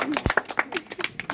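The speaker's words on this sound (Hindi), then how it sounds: "एक बार ताली बजाओ बच्चों।" A group of children claps for a handmade rose gift, quick uneven hand claps close by, with voices speaking over them.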